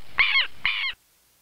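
Two loud, close bird calls at a countryside retreat in Cumaral, Meta, Colombia, each a short harsh hooting note, separated by a brief gap and followed by silence.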